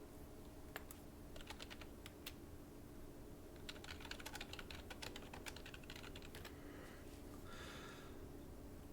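Computer keyboard typing in quick, irregular bursts of clicky keystrokes, close and fairly quiet over a steady low background hum, with short pauses between flurries and no talking.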